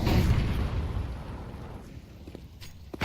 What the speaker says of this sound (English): Flashbang's going over.